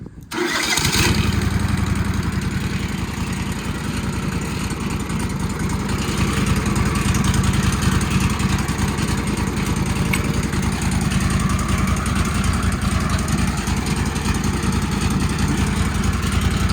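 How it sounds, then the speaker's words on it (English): A gas engine roars steadily at high revs while its saw cuts through pallet wood, loud and close, running without pause after a brief startup. "and I'll go begin sawing"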